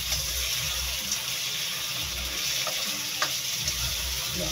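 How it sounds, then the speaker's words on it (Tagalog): Shrimp fry in butter in a pan for spicy buttered shrimp, giving a steady, close sizzle with a faint crackle and a few soft clicks and no talking. "Ganito lang kabilis magluto ng spicy buttered shrimp."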